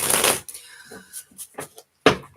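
A deck of tarot cards is shuffled close by in two quick riffling bursts, one at the start and one near the end, separated by softer card handling and brief pauses.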